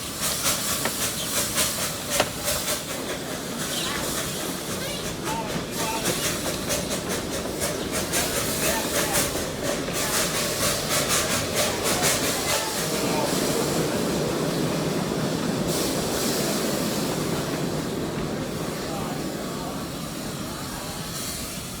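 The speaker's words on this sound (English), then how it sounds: "Since the train was slowing down, it was going so slow that I could literally walk alongside it." A micro gauge steam train slows at the Hesston Steam Museum steam and power show, with a continuous hiss of steam and a soft rolling rumble, close by and steady, with faint voices in the background.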